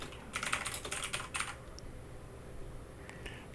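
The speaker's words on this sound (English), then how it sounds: "Just press enter on your keyboard" Rapid keystrokes clatter on a computer keyboard in a quick burst for about a second, then a few scattered taps follow after a quiet pause, close and fairly soft with no one talking.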